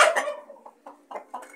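Brahma chickens clucking nearby in a short series of separate calls, one longer squawk followed by three brief clucks, with no talk.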